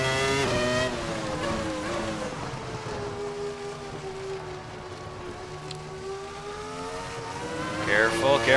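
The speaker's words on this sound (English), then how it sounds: "The wheel spin in fourth." A race car's engine revs and whines as the wheels spin on a wet track in Assetto Corsa, pitch rising and falling through the gear, loud and close, with brief squeals near the end.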